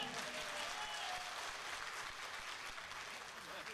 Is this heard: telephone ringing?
no